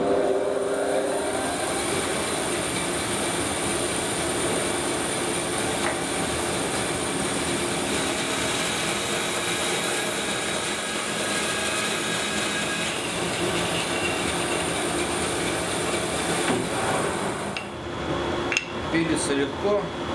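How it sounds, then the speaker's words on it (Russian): A Felder FB 710 band saw making a first test cut through hard amaranth wood, a steady loud whirring hum with blade noise that runs continuously before stopping near the end with a few knocks. "делаю первый пробный распил"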